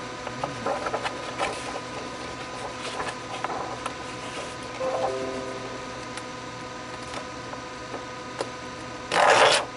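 Paper rustles and crinkles softly as braille embosser output is handled, ending in one quick, loud rip as a perforated strip is torn away.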